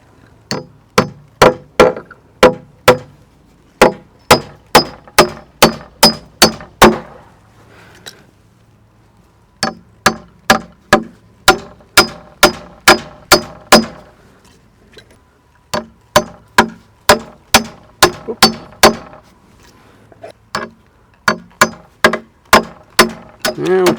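Hammering 3.5 inch spiral deck nails into wooden treehouse joists: loud, sharp, close hammer blows in quick runs of about six to ten strikes, separated by short pauses.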